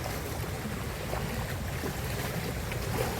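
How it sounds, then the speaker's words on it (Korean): Strong wind and heavy waves at sea during a mullet fishing outing off Ganghwa, a loud continuous rush of wind and water buffeting close by, with no voices. "바람이 좀 불면서 커피 커피 생각나네 아, 파도가 세요 파도가 세"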